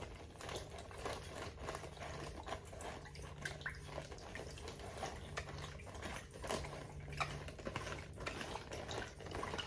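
Turkey brine of water, kosher salt and lemon juice is stirred in a container, a steady faint sloshing and scraping with intermittent mechanical whirring from the mixing tool.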